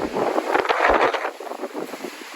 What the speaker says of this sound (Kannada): ಗಾಳಿ ನೋಡ್ರಿ ಹೆಂಗ್ ಬೀಸ್ತೈತೆ.